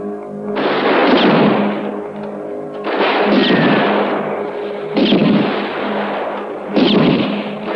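Gunfire from a shootout in a Western film comes in four long, loud bursts of rapid, crackling shots, each running about one to two seconds, with short gaps between them.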